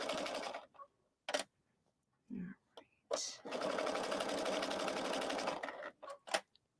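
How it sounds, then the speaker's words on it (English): A Baby Lock Crescendo sewing machine stitches a Luxe Cuddle hooded infinity scarf at a long stitch length. It runs in a steady whirring burst of several seconds between short starts and stops, close and fairly loud, and a voice is heard briefly. "I'm sewing on the Baby Lock Crescendo"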